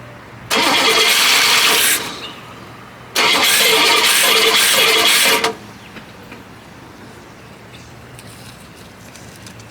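A 1966 Buick Special engine cranks in two long bursts of starter churning, about a second and a half and two seconds each, separated by a pause, without catching, followed by quiet.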